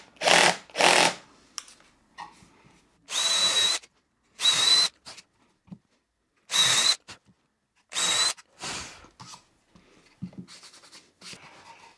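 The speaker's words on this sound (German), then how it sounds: "Machen wir 3 Schrauben rein. 1, 2, 3 über die Diagonale" Power drill driving three screws into a wooden clamp holder built from scrap wood, in separate loud bursts of whirring with short pauses and lighter handling clatter between them.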